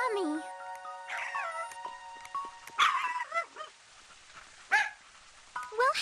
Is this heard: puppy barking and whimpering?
yes